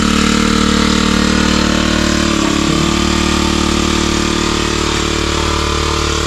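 An engine left running at idle on a farm, a loud, steady droning hum with constant low tones and no change in pace, heard close up and alone without any voices.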